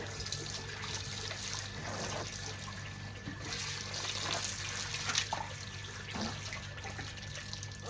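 Water runs steadily into a container during a morning chore of filling water, a continuous trickling pour with no talking over it.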